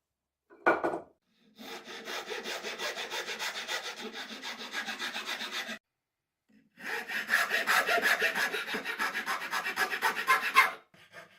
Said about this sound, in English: figured I'd get better results just doing it all by hand with a coping saw and a few files